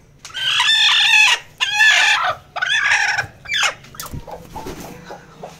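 A chicken lets out a series of loud, drawn-out squawking calls up close, followed by quieter scattered clucks and rustling.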